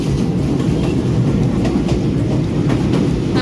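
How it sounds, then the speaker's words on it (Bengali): A fast local train bound for Khulna runs at speed, heard from on board as a loud, steady rumble with rhythmic wheel clatter and no talk. "ট্রেন ছেড়ে দিচ্ছে, এই ট্রেনটা অনেক ফাস্ট।"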